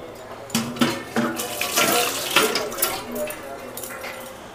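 Tap water running into a sink while dishes are set to soak after an evening meal, gushing in bursts with pots and utensils clattering.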